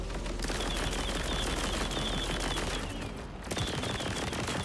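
Sustained rapid gunfire in a video game, a dense loud automatic rattle that runs almost without a break and dips for a moment near the end, with no talking.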